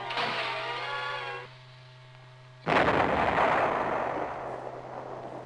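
Artillery fires in wartime, first as a rapid stuttering burst, then a pause with a low hum, then one heavy boom that rolls on into a long rumble.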